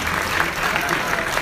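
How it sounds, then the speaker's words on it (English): An IIFA 2017 awards crowd applauds the event's partners in a brief, dense burst of clapping, with a voice faintly audible underneath. "please join me in applauding our partners"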